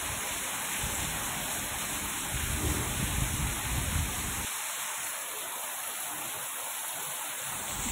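Steady rain hisses throughout, a dense even patter with a low rumble in the first half that drops away, leaving the rain alone.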